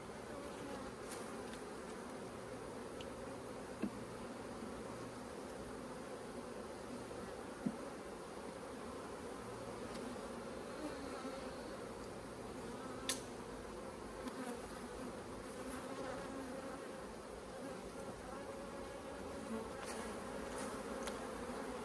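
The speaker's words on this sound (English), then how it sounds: "we'll shake these bees off one frame at a time" Honeybees shaken off hive frames during a hive split, a dense steady buzzing swarm humming close by, with occasional faint knocks and rustles and no talking.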